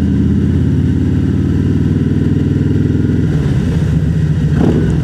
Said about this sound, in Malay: Motor aku tak adalah kuat sangat.